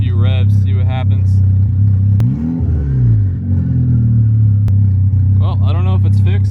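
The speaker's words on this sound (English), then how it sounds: "So now I'm gonna try giving it a few revs, see what happens." A built, turbocharged MK6 Golf R with a large intake filter, running 5 psi of boost. It idles with a steady drone, then gives one quick rev that rises and falls back, while someone talks nearby at the start and end.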